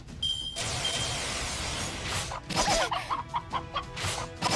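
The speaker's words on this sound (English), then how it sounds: "Clearly a chicken, though." A chicken in a video game clucks and squawks in short bursts over a busy mix of game hits and whooshes, fairly loud and close, with no talking.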